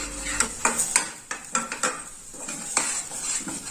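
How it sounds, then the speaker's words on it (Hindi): A utensil clinks and scrapes against a pan as spices are stir-fried in oil for a mini potato sabji, with sharp irregular metal knocks over a soft background sizzle and no speech. "इन सभी मसालों को हम अच्छे से भून लेंगे"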